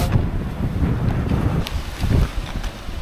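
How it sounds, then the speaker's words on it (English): Strong wind roars and buffets the microphone on a sea cliff in Hawaii, a continuous rough rush with gusts and no voices. "A little bit rougher, windier than the weatherman predicted"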